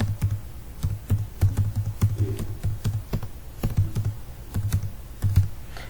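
Quick, fairly close keystrokes patter on a computer keyboard while code is typed, an irregular run of clicks with short pauses and no talk over it.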